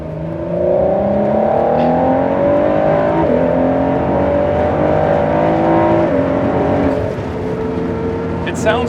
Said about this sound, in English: it sounds better than it deserves to for a V6 with turbos on it